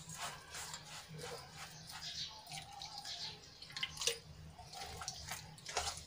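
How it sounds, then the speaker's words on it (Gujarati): Water pours into semolina dhokla batter in a bowl, making faint trickling and dripping with small splashes and soft stirring, quiet and close, with no speech. "હવે આમાં આપણે જરૂર મુજબ પાણી એડ કરીશું"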